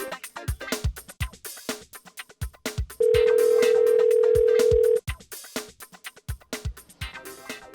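A steady, unbroken telephone tone sounds for about two seconds, cutting across rhythmic background music that resumes afterward.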